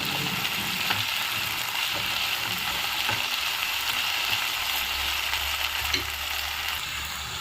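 Cut capsicum frying in a pan makes a steady, moderate sizzling hiss that runs without pause, with faint scraping of stirring mixed in.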